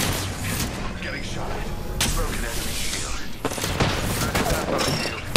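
Gunfire in a video game, rapid bursts of shots and thumping booms layered over one another, with a voice talking over the action.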